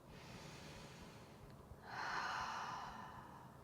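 A single soft, drawn-in breath during a yoga flow, faint and close, rising in the middle of the clip and fading against quiet room noise.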